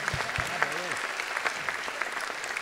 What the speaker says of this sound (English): Give them a round of applause because they truly do deserve